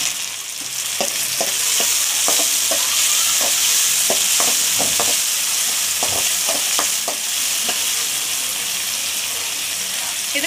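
Chopped tomato goes into softened frying onions, and a spoon scrapes and stirs the pan with repeated knocks over a strong, continuous sizzle, close and loud, with no speech.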